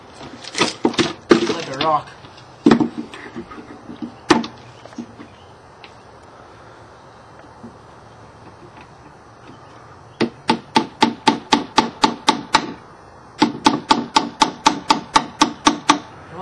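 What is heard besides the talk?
hammering the wooden back piece of a birdhouse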